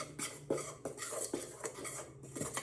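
A utensil clinks and scrapes against a bowl in quick, uneven strokes while flour and cornmeal are mixed together for cornbread festival dough, close and fairly quiet.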